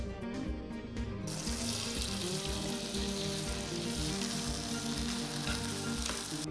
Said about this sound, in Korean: 고춧가루의 향이 올라오면 가지를 넣고 볶아주세요.